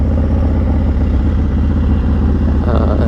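A Harley-Davidson Dyna FXDX motorcycle rumbles along an airstrip, its engine giving a loud, steady low throb close to the mic without a break.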